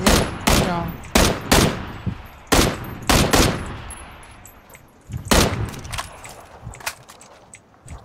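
PUBG video game gunfire inside a building, a fast cluster of sharp shots followed by scattered single and paired reports, fairly loud, with a faint voice barely audible beneath.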